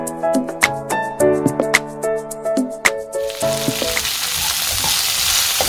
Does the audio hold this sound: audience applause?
no